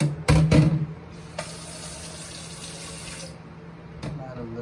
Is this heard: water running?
yes